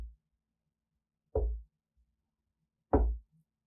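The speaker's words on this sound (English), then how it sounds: "the sound of slow, steady knocking in the distance" Slow, steady knocks in a ghost story: two heavy, dull thuds about a second and a half apart, each standing alone against near silence, with a faint knock trailing at the very start.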